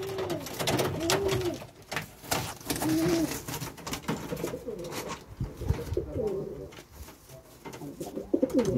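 Pigeons coo repeatedly in a loft built as a sealed breeding box, the low rolling calls rising and falling near the listener over steady background bird noise and light rustling.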